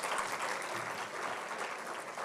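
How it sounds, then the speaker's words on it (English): Audience applause at a Kente donning ceremony, a steady, full round of clapping from a crowd throughout, with no break. "Another round of applause for our keynote."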